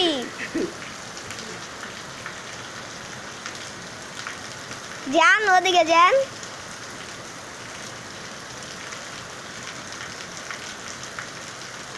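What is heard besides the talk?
rain falling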